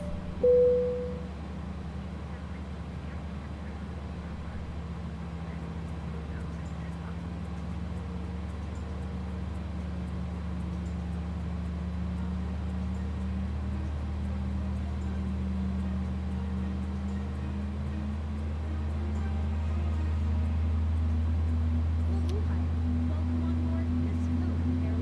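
Airbus A300-600 jet engine spooling up during start in the X-Plane 11 flight simulator, a steady low drone with a slowly rising whine, heard from inside the cockpit.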